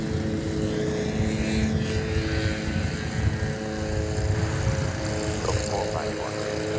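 A five-year-old Delta Airbus A220-100 jet at DFW Airport produces a steady, droning engine hum with a faint tonal whine, heard from a distance under continuous talking.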